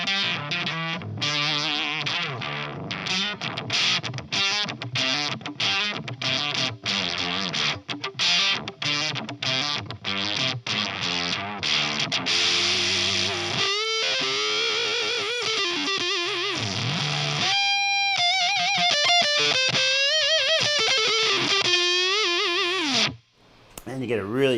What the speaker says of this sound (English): you get a really Hendrixy, super overdriven fuzz tone out of it